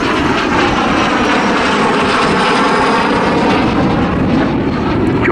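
A loud, steady roar from a jet aircraft making a display pass at the 2019 Southport Airshow fills the whole stretch, dense and continuous, close and with no talk over it.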